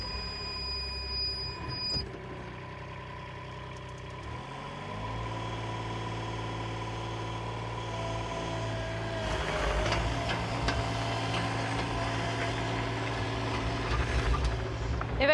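A Cat 302.7 mini excavator starts up, its diesel engine catching after a beeping alarm tone and settling into a steady idle that grows slightly louder and rougher toward the end.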